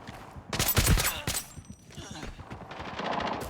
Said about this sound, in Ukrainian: Ось так постріли в нього такі були по типу як СКС теж